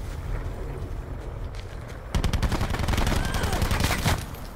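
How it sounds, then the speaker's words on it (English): Rapid bursts of gunfire from an enemy in a house in Call of Duty: Black Ops 4 Blackout, a dense crackling volley after a quieter stretch of background game noise. "There's a guy inside the house, he's shooting at me."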